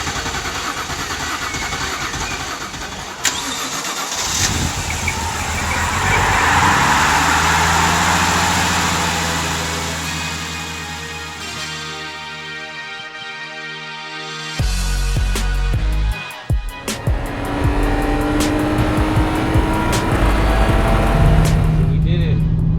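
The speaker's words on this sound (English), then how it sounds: "we finally have a solid, rebuilt, reliable N52 engine to lean on" A rebuilt BMW N52 engine in an E90 runs loud and close, its steady hum shifting pitch as it revs up and settles, then cutting off briefly before a restart with clattery bursts; no voices.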